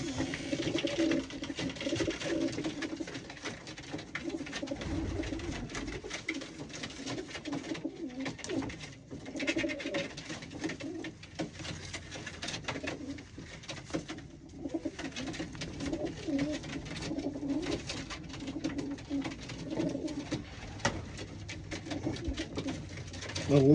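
Racing pigeons coo and flutter steadily while fighting in their loft, a busy, agitated chorus of birds close by with scuffling and wing noise, with no clear talking.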